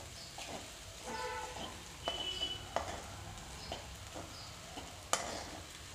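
Sabudana khichdi with crushed peanuts cooks on low heat in a pan, with a faint, quiet sizzle broken by soft stirring scrapes and occasional utensil clicks.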